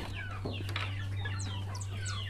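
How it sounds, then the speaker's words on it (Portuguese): A hen with two small chicks, soft repeated clucks mixed with high, thin peeping cheeps, close and fairly quiet over a steady low hum, with no talking. "a galinha tava com dois pintinhos"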